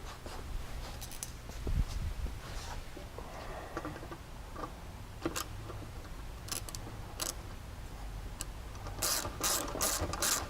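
A ratchet wrench tightens a bolt with a quick, steady run of clicking pawl ticks over a busy mechanical background, moderately close, without speech.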